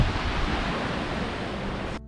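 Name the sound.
waves crashing against cliffs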